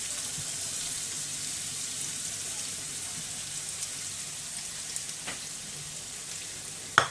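Onions sizzle and fry steadily in a hot pan at an aloo masala stove, a soft continuous crackle with a couple of faint stirring clinks near the end.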